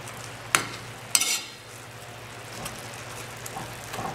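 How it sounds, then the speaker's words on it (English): A spoon breaks up tomatoes cooking with smoked herring in a pot over a soft sizzle, with two sharp clinks of the spoon against the pot early on and a few lighter taps later. "just use your spoon and just try to break up the tomato into even smaller pieces"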